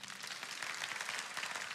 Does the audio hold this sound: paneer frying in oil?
no